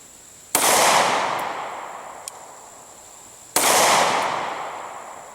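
Two sharp, loud pistol shots from a Glock 27 firing HST rounds outdoors on a hot, humid day, spaced about three seconds apart, each with a long reverberant tail.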